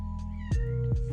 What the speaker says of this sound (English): And now my cat's meowing.